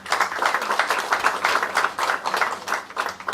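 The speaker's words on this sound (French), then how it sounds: "Mesdames, Messieurs, ça s'applaudit." An audience at a plantain banana festival applauds, with clear rhythmic clapping that pulses in bursts, close and moderately loud, continuing steadily without speech.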